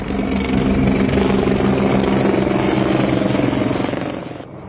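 Russian Mi-35 military helicopters during large-scale joint exercises produce a loud, steady rotor and engine roar that holds for several seconds, then eases slightly at the end.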